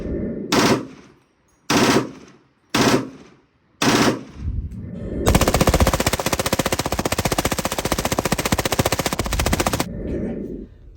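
HK machine gun firing: four separate loud bursts of automatic fire with brief pauses between them, then one long sustained burst lasting about five seconds, loud and close.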